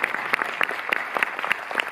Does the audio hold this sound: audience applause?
yes